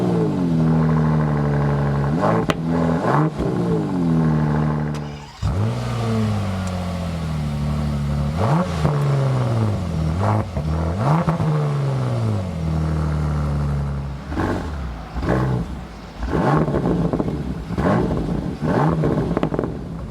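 A Bentley Continental GT Speed 12-cylinder with an Akrapovic exhaust revs repeatedly, rising and falling in loud roaring bursts that settle into a rumbling idle between blips.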